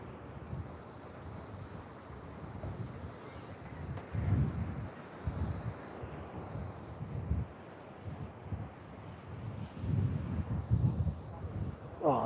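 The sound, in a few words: wind blowing at the beach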